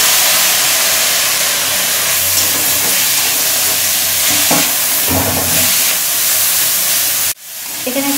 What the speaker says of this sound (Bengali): এবার দিয়ে দেবো ক্যাপসিকাম কুচি।